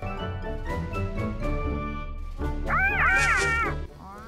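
A cat in the video game Petz Catz 2 meows repeatedly over a tinny background melody, finishing with a loud, wavering drawn-out yowl.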